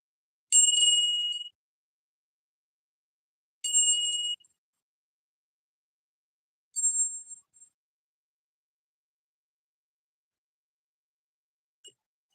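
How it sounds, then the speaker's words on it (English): Three bright rings of a small bell, struck at roughly three-second intervals, each a clear ding with a short decay, followed by a faint final tap in otherwise silent surroundings. "Let's do a little ring of the bell for Jamaica."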